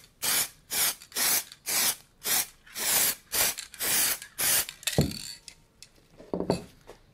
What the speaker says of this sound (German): Und jetzt sprühen wir da einfach mal drauf.